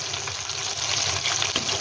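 KFC-style chicken wings fry in hot oil with a loud, continuous bubbling sizzle, close and steady, and no talking over it.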